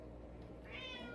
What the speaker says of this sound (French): mon chat, qui miaule sans cesse